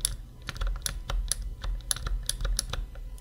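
Cherry MX Blue mechanical keyboard switches clack under steady typing, giving a close, crisp train of sharp clicky keystrokes with an irregular rhythm.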